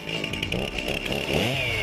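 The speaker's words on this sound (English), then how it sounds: "Start up the chainsaw." Chainsaw running steadily at close range before a timber sports demonstration, a continuous buzzing engine drone with slight surges in pitch throughout, no voices.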